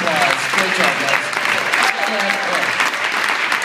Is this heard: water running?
no